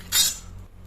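A spoon or spatula scrapes and clinks once against a pan as dried fish chutney is stirred while roasting, a short bright burst followed by a faint, quiet sizzle.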